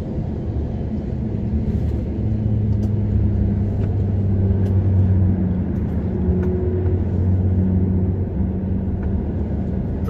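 Ferrari 430 Scuderia passing on a road, heard from inside a truck cab as a steady low rumble with engine tones rising and falling, continuous and moderately loud with no clear distinct pass-by peak.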